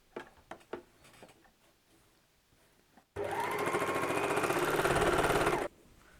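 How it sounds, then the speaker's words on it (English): A serger runs in one continuous fast whirring burst of about two and a half seconds as it stitches and trims the edge of a cushion cover, preceded by a few soft handling taps and rustles. "Now I will show you what this looks like if we do it on the serger."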